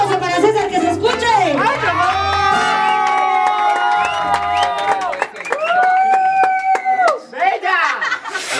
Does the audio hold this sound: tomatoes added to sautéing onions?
no